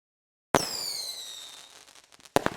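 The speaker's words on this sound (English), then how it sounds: "The second firework twists into curling strands" A firework bursts with a sharp crack, then a long fizzing, crackling trail that hisses and fades, followed by a second burst of quick pops near the end.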